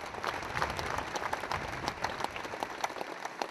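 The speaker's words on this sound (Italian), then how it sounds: "Strazianti le urla di dolore dei familiari, che più volte sono stati interrotti dagli applausi dei presenti." A crowd at a funeral in Favara, Sicily, applauds steadily, many hands clapping in a dense, sustained patter that carries on throughout.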